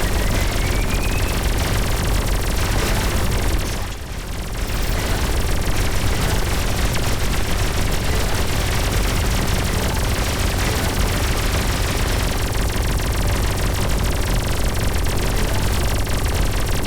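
A turret fires continuously in the Everspace 2 space game, a loud, dense stream of rapid shots with a brief dip near the start before the barrage resumes unbroken.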